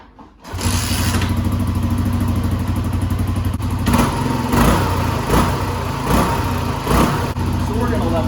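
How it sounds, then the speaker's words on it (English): A Kawasaki KLR 250 motorcycle engine starts and settles into a steady, close idle while warming up, with a rumbling, slightly clattery tone and a few rises in revs. "So we're going to let the bike warm up just a little bit."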